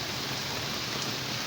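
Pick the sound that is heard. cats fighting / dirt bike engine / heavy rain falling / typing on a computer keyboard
heavy rain falling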